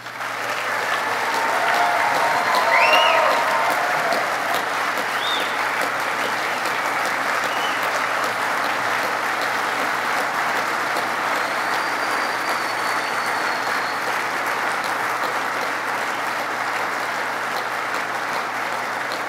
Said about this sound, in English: please give our Hall of Fame inductees another round of applause